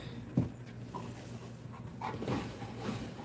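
A dog, an Americane da Presa, pants softly at close range with faint high whimpers and a small thump early on, all fairly quiet.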